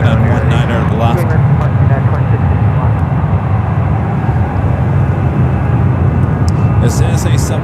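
Lufthansa Boeing 747-400 airliner at San Francisco International Airport, a loud, steady jet engine roar filling the scene, with someone talking over it.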